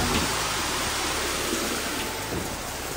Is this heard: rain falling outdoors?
yes